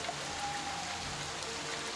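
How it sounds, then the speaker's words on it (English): Steady rain falls on soft, churned soil, a dense continuous hiss of drops with a faint low rumble underneath and no voices. "The rain is kind of making the soil soft"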